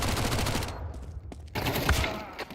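Rapid SMG gunfire in a Counter-Strike 2 match, loud and close, with dense bursts of shots that break off briefly and then resume, with no talk over it.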